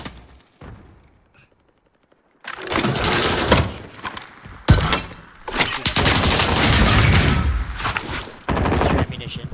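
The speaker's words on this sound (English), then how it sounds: "He's still shooting at me." Gunfire in a shooter video game: loud, dense bursts of automatic fire and single heavy shots that begin after a quiet opening and continue almost without pause, close and harsh.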